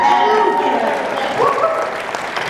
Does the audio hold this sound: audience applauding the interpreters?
yes